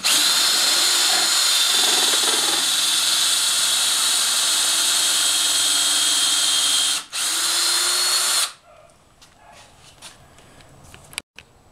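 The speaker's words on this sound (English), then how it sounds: "got our counterseek bit, and we're gonna countersink our hole." A power drill countersinks holes in oak wine-barrel table legs, running loud and steady for about eight seconds, cutting out briefly partway through, then stopping and leaving quiet workshop handling noises.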